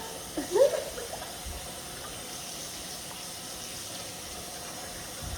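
Faint, steady running water in a sink, with a brief louder splash near the start before settling into a soft continuous flow.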